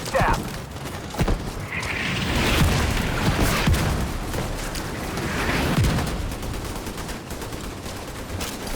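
Mortar rounds striking in the shooter game Tom Clancy's The Division 2: repeated heavy booms and bursts of gunfire across several seconds, loud and close, with rumbling between impacts and occasional voices.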